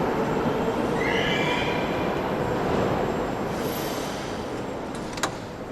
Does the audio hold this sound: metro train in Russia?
yes